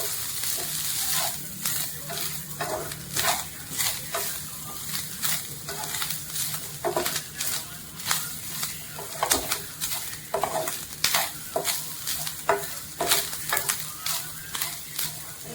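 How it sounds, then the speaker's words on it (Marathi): Half a coconut roasts in a pan for a mushroom xacuti, with a steady sizzle beneath repeated scraping and stirring strokes of a spoon against the pan, close and fairly loud throughout. "हो हाफ कोकोनट हा मातशें बरो भाजून घेवया"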